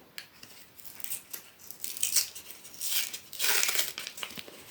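A small plastic snack packet, the cheese-flavoured kind, crinkles and rustles as it is handled up close, in several bursts that swell louder toward the end.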